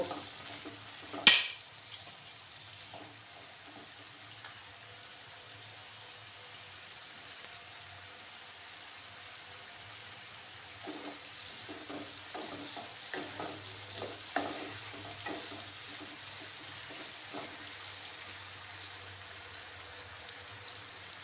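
Potatoes fry in a pan over a gas flame, a quiet steady sizzle with occasional soft stirring scrapes and small pops, one sharper knock near the start, heard without talk.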